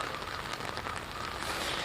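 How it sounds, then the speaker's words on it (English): Cold rain falls outdoors on a breezy morning, a steady dense hiss of drops spattering on surfaces, continuous and even with no voices over it. "Lena, right now we do have a little bit of a breeze starting to pick up, but of course it's the cold rain."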